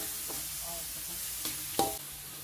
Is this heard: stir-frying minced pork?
yes